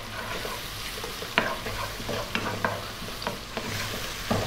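Chopped garlic with salt and black pepper frying and being stirred in a pan on lively high heat, a steady sizzle broken by scattered scraping clicks from the utensil, close and fairly loud with no talking.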